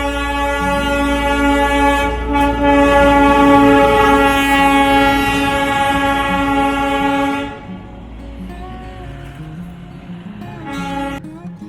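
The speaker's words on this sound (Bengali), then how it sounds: "ঠিক আমার পেছনে টয় ট্রেন আছে" Darjeeling toy train passing near Siliguri, its loud, sustained horn blaring steadily over a low rumble of wheels for several seconds before cutting off, leaving quieter rolling rail noise and a brief final horn blast.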